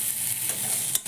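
Fried Gobindobhog rice stirred into masala gives a brief close scraping stir over a light sizzle, with a couple of stronger strokes near the end.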